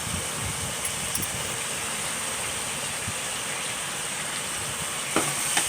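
Cleaned shrimp added to a hot frying pan give a steady, loud, hissing sizzle that runs unbroken, with a few small clinks near the end.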